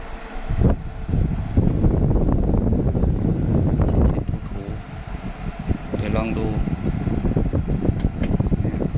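An evaporative air cooler fan, under repair for a water pump that fails to lift water, runs with a constant loud whooshing drone while someone talks over it.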